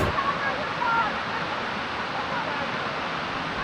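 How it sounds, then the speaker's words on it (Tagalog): Kaparkan Falls in Tineg, Abra pours in a steady, dense roar of rushing water, broad and continuous with no pauses. "ito na ang Kaparkan Falls ng Tineg, Abra"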